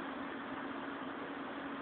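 A small American four-stroke, 2 horsepower engine on a motorized bicycle runs steadily, a continuous buzzing drone with an even hum and no voices.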